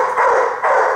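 A big dog confined in a small cage gives two close, loud, strained barks in quick succession.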